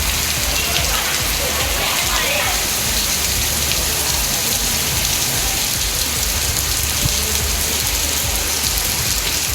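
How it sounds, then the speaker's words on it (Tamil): Heavy rain driven by wind pours down steadily over Melmaruvathur, Acharapakkam and Chithamur in Tamil Nadu, a loud, dense, unbroken hiss of rainfall with a low rumble throughout. "கருமேகங்கள் சூழ்ந்து காற்றுடன் கனமழை வெடித்து வாங்கியது"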